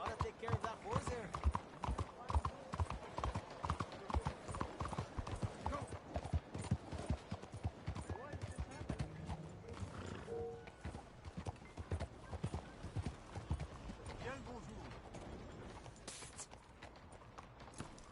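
Horse hooves clip-clopping in the video game Red Dead Redemption 2, a quick, steady rhythm of hoof strikes that runs throughout and eases off toward the end, with people talking over it.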